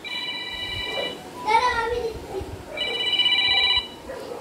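A phone rings indoors in a household with two electronic ringtone bursts separated by a short gap, while a voice speaks between the rings.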